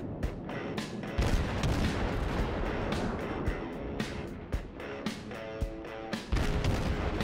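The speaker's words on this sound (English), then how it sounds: "Your shells are hitting me." Naval gunfire from warships in the World of Warships game: repeated booming shots and explosions over a dense, continuous roar of battle, with sharp bursts landing irregularly throughout.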